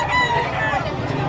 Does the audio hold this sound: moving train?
no